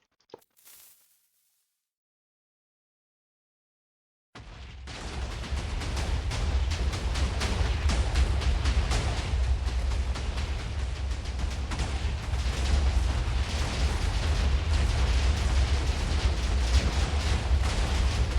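Sustained, dense explosions and heavy booming from a PC video game, starting abruptly after a few seconds of near silence and continuing as a loud, continuous roar of blasts.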